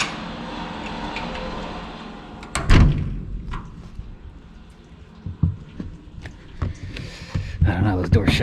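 A solid car door thuds shut with a deep thump, followed by quieter knocks and clicks and a few more thuds amid background noise.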